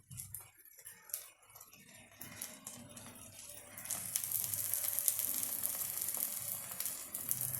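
Oil sprinkled onto a sprouted bean dosa in a hot pan makes a soft, crackling start, then swells into a steady, bright sizzle that continues to the end.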